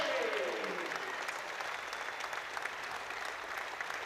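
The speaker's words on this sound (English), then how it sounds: "to a round of applause" A stadium crowd applauds steadily at a rugby league match as a player receives a guard of honour walking onto the Boundary Park pitch, a broad, continuous wash of clapping heard from a distance.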